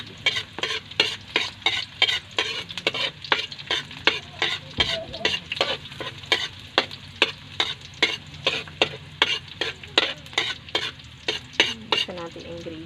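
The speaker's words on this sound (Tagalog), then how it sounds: "Gisa natin ingredients na. Yung hipon at saka yung tahong" Shrimp and mussels sauté in a hot pan for Filipino palabok, a steady loud sizzle punctuated by rapid rhythmic scrapes and taps of a stirring utensil, close and continuous with no talking.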